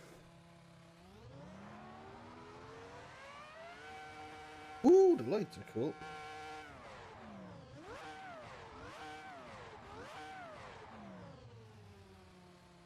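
The Ferrari F1 Concept 2.2 mod car in the racing game Assetto Corsa, played in VR: a high-pitched engine whine that rises and falls through revs and shifts, with a short exclamation from a speaker midway.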